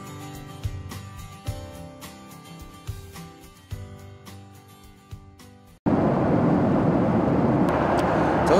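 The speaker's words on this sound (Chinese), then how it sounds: "在飞机上面飞往一个全中国最热的地方" Airliner cabin on a flight to Hainan Island: after a stretch of tonal music, a steady, loud, broadband engine-and-air roar fills the final three seconds.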